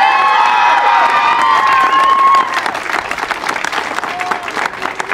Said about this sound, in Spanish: Un aplauso por favor para la maestra Leticia